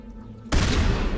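A weapon in the video game Mass Effect fires abruptly after a quiet moment, a sharp loud burst of shots that carries on as dense, rapid gunfire.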